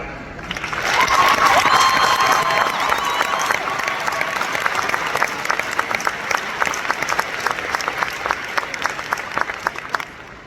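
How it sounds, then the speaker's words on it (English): Loud, sustained round of applause from a large audience for salutatorian Kimberly at a graduation ceremony, dense clapping with a few faint cheers that gradually thins into scattered claps by the end. "I would like for everyone to give Kimberly the round of applause that she should have received at the summa cum laude"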